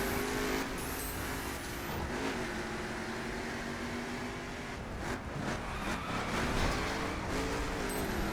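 A heavy car's engine in The Crew racing game hums steadily throughout, with a sustained tonal drone that shifts pitch slightly as it drives on, alone with no talk.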